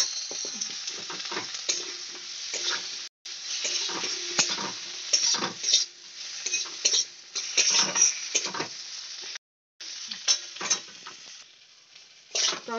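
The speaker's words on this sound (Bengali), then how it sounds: "পেঁয়াজগুলো দেখো আমার লাল লাল হয়ে ভাজা হয়ে এসছে" Tomato goes into onions frying in a pan, with loud, close sizzling and repeated stirring scrapes in uneven bursts, broken by a couple of brief silent gaps.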